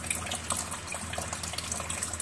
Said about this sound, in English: before returning the soap, make sure to rinse it to remove all the microorganisms from the lather.